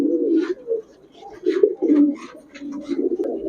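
Pigeons of a flying breed coo close by in soft, repeated throaty phrases, several overlapping calls across a few seconds.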